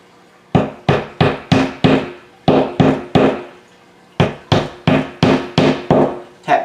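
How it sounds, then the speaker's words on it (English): Rapid hammer taps drive plastic anchors into drywall in three bursts, a quick run, a short trio, then a longer steady series, each knock crisp and close with hard ringing hits. "Tap gently with a hammer"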